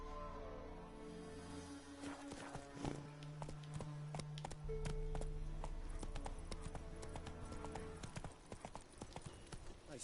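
Horse hooves walking in a video game, a steady clip-clop of individual hoof strikes at a walking pace with some faint background tones and no clear speech.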